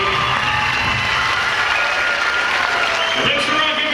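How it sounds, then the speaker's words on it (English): A dense, loud burst of audience applause fills a hall after an Irish dance school's final act in a 2006 recital, steady clapping with faint cheering mixed in. "Big round of applause again for the final act in act number three."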